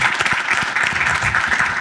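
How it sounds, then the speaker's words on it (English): Steady, close applause from an audience at a Martin Luther King Jr. commemoration, honoring Professor Jeannine Bell in a short, continuous burst of clapping. "let's just give another round of applause for Professor Jeannine Bell doing an amazing job"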